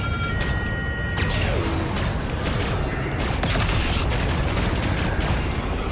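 Ship-mounted guns firing in Star Wars Outlaws space combat, with rapid repeating blasts and mechanical clatter over a steady, loud engine roar and a brief falling whine early on.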